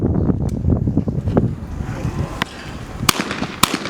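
Shots from a 28 gauge shotgun at skeet targets during a world championship, several sharp distant reports spaced across the stretch over heavy wind noise buffeting the microphone, the last two cracks clearest.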